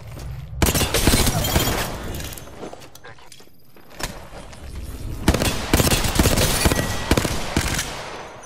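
Dense bursts of video-game gunfire in Apex Legends, loud, rapid fusillades with a short lull in the middle before the shooting resumes, some faint footsteps and gear rattles in between.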